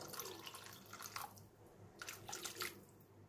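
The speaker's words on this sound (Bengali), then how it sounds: "এবার এর মধ্যে গ্রেভির জন্য অল্প জল আমি যোগ করে দেব" Warm water pours into a pan of rohu fish curry to make gravy, a steady close splashing trickle with a brief pause midway before the pour resumes.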